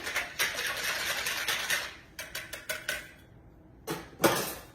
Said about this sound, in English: Stir it up good again.